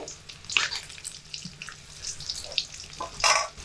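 An omelette fries in white vegetable oil, a soft steady sizzle with crackling bursts and a few scraping touches, close by and alone with no talk.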